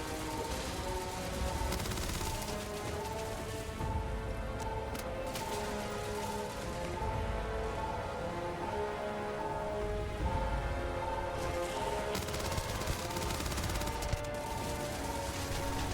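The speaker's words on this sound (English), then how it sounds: "maybe the submachine gun is not the best tool for this fight" Sustained automatic fire from a submachine gun and a turret defense system during a Starfield firefight, a dense, continuous rattling barrage that runs loud and steady throughout with no pauses.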